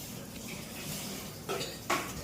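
A plate clinks down over a bowl of dal in a home kitchen, two short ceramic knocks near the end over quiet room tone, with no talking.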